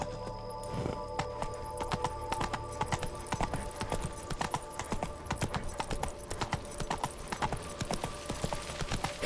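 Horse hooves gallop in Witcher 3, a steady rapid clip-clop rhythm that stays close and prominent from start to finish, with faint game ambience underneath.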